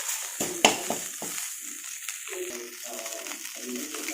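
Curry leaves fry in a pan for homemade curry leaf powder, a soft sizzling crackle with a sharp pop and a few scraping stirs near the start, continuing quietly and close.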